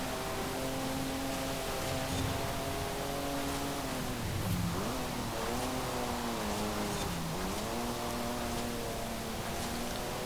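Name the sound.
heavy car driving and revving, video game Forza Horizon 5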